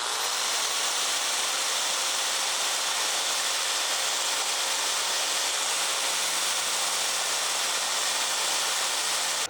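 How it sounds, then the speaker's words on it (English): An angle grinder with a flap wheel sands a metal high-clearance flap on a Toyota 4Runner, giving a steady, loud, unbroken abrasive whine with no pauses or talk. "I had to take the flap wheel, and about this section right here, I kept sanding away until it had a nice gap"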